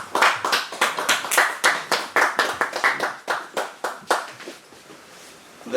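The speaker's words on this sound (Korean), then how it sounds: "박수 받으세요." Audience at a church prayer-breakfast gathering gives an elder a round of applause as he is introduced: a burst of close claps from a small group, steady for about four seconds and then thinning out to scattered claps.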